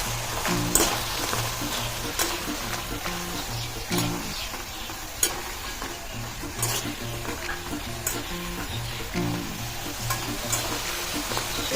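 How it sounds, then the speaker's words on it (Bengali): Nimki, a crisp Bengali flour snack, frying in hot oil, a steady close sizzle and bubbling with occasional sharp clinks and scrapes of a ladle in the pan, no voices. "আমার আরেক খোলাও ভাজা হয়ে গেল"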